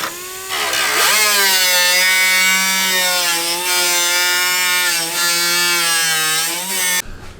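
A power tool whines loudly and steadily as it cuts down an aircraft glare shield for a Kitfox panel, holding a sustained pitch with slight wavering for about six seconds before stopping abruptly.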